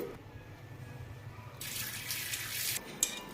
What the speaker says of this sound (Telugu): నానేసిన బియ్యం ఫస్ట్ సారి అయితే కడిగేసి ఆ నీళ్ళు అయితే వంపేసుకోవాలి